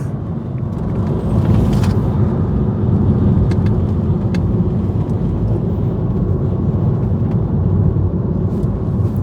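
A turbocharged Audi TT with a misfire and fault codes accelerates hard, its engine roaring loud and continuous with rushing boost noise and a few sharp transient bursts early on.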